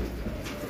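Pigeons in a loft give a brief, soft cooing murmur, low and close, with no voices over it.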